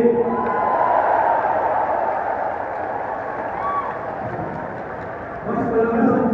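A large crowd at a corporate kick-off training event claps and shouts in a sustained roar, loud and continuous, swelling slightly near the end.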